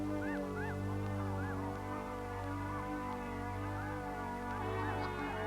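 Snow geese on the Arctic tundra at their nesting grounds, a dense continuous chorus of many overlapping honks and yelps from a large flock, steady and loud with no gaps.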